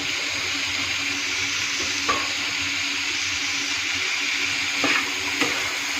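Chopped tomato sizzles in a hot pan after being salted and mixed, a steady frying hiss broken by a few soft scrapes of stirring, with no talking.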